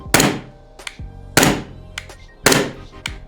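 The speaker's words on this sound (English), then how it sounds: "I'm manually racking it just to simulate it firing" An airsoft pistol slide is racked by hand three times in a steady rhythm, each a sharp, close metallic clack followed by a lighter click as it returns.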